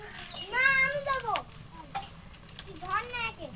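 Bay leaves and dried red chilies dropped into hot oil in a frying pan, giving a lively sizzle beneath a voice speaking over it for the whole short stretch.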